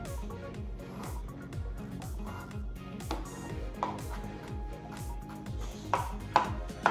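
Pickle sandwich slices being diced small with a knife on a cutting board, heard as steady, close chopping taps over continuous background music.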